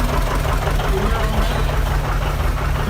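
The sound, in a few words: John Deere 730 tractor engine running in parade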